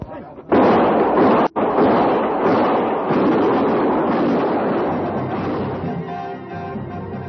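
Radio-drama gunfire effect from an old Western: a loud, close blast erupts, briefly cuts, then booms again into a long rumbling roar that slowly fades.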